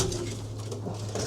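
Racing pigeons in a loft give a soft, low cooing murmur, close and continuous over a brief stretch, no talk.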